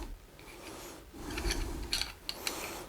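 A camera adapter being screwed onto a telescope eyepiece, close, quiet rasping and rubbing of threads with a few small clicks, no talking.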